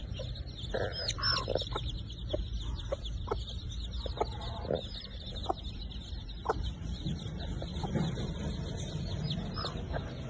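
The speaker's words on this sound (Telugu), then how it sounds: "ఇది మా కోడి అన్నమాట, కోడి పిల్లలు" Hens cluck softly among small peeping chicks, with scattered chirps over a steady outdoor background hum.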